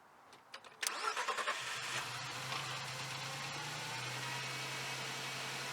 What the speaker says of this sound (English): the Hulkman was able to start the vehicle